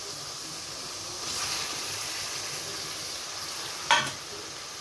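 Fish roe frying in oil in a pan, giving a steady soft sizzle throughout with a rise around the middle and a brief sharp clatter of stirring near the end.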